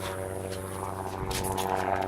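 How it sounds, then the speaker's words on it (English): A helicopter approaching and passing over a house gives a steady, fairly loud droning hum of engine and rotor that holds throughout, with no one talking. "Here comes the helicopter back."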